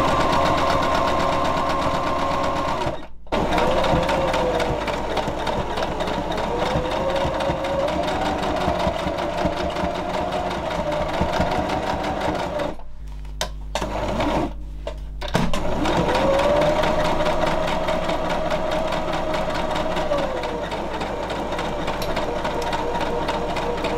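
An electric sewing machine stitches fabric for a junk journal cover in long continuous runs, a loud, close, rapid mechanical whir with a few brief pauses and restarts.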